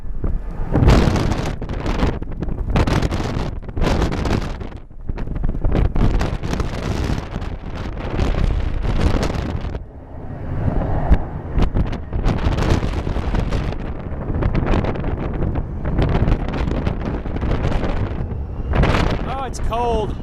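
Strong gusty wind batters the microphone outdoors at an airport viewing spot, a constant loud rumbling roar with surging gusts throughout, and someone talks over it.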